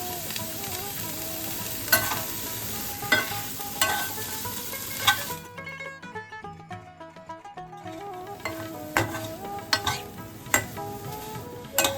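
Grated khoya is heated and stirred in a warm non-stick-free kadai, giving a soft sizzle with repeated scraping strokes of a spatula, briefly quieter in the middle before the scraping resumes.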